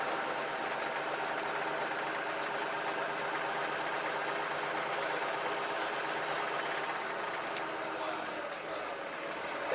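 A boat engine idles with a steady, continuous drone throughout, loud and even, while people talk nearby.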